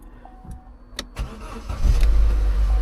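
An old minibus engine cranks briefly, then catches and settles into a loud, steady idle close by, with a few clicks before the start.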